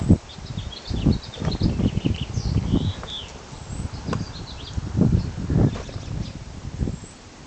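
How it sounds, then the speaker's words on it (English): Birds chirp faintly outdoors in scattered short calls. Gusty wind rumble and rustling are louder and mask them. "You can hear the birds, they're happy"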